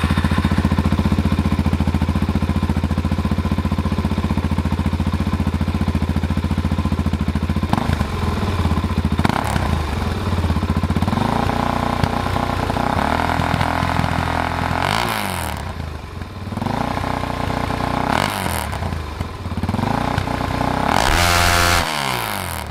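A Suzuki DR-Z400 motorcycle engine with an aftermarket Arrow exhaust runs loud and close through a deep, throaty exhaust, idling and then blipped into several sharp revs.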